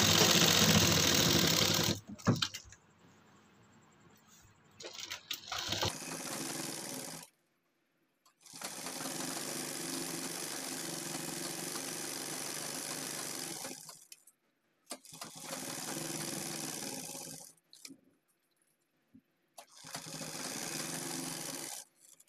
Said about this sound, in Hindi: नाखून लगाने के बाद में यहाँ पर हम सिलाई लगाएंगे एक पैर की